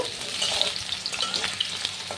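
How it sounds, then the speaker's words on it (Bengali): Potatoes fry in mustard oil in a wok with a soft, steady sizzle and crackle, broken by the occasional scrape of stirring, heard close and fairly quiet with no voices. "প্রথমে আলুগুলোকে ভালো করে ভাজা করে দেব"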